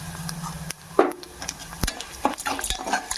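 Coriander seeds and cumin seeds fry in a pan with a faint sizzle, broken by clinks and scrapes of a spoon knocking against the pan, close and uneven with no speech.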